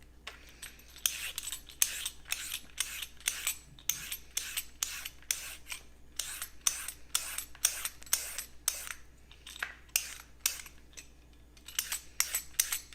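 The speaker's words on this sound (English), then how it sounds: "I'm going to cut them the way I want them with the peeler and not with the knife." Carrots being peeled into super thin shreds with a handheld peeler, a rapid run of dry rasping strokes in a close, even rhythm with brief pauses.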